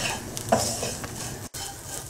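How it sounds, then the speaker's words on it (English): Onion and coconut sizzle steadily as they are stir-fried in a hot pan while a utensil stirs and scrapes, with a brief clink partway through. "Just keep stir frying it until the onion starts to soften."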